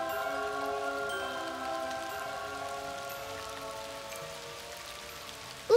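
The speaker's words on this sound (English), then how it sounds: "rain!" Steady cartoon rain falls evenly throughout, a soft continuous patter under a faint sustained musical tone, with a brief sound at the very end.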